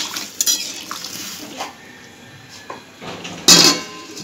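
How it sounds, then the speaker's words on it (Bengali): A utensil clinks and scrapes against a pot while raw mango and salt are stirred, with a few sharp clatters and a final louder clank as a lid goes on. "ভালো করে নেড়ে নিয়ে এরপর ঢাকা দিয়ে দেবো সেদ্ধ হওয়ার জন্য।"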